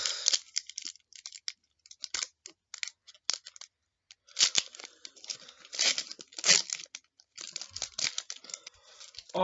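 Trading cards from a freshly opened 1996 AFL Select Series 2 pack being peeled apart, giving close, irregular bursts of papery tearing and crinkling with brief pauses between pulls.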